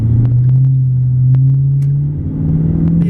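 A 2011 Ford Mustang GT pulls away on a road, its deep, steady engine rumble climbing gently in pitch as it accelerates, heard from inside the car.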